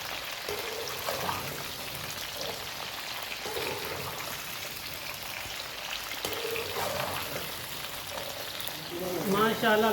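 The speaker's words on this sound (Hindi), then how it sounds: "इनको 7 से 8 मिनट के लिए फ्राई करेंगे।" Lasoda fruit frying in mustard oil gives a steady sizzling hiss, close and even throughout, with a few brief louder crackles near the end.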